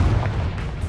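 Fiery Confringo spell explosion in the video game Hogwarts Legacy, a short dense boom filling the whole clip at steady loudness with rumbling low end and no voice over it.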